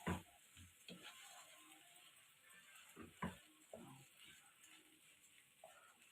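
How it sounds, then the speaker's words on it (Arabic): Rice with spiced ingredients being stirred in a pot, a quiet scraping and clinking of a spoon against the metal in irregular strokes, with faint sizzling underneath. "يعني بمعنى اصح كده حطينا كل حاجه دلوقتي وبنقلب"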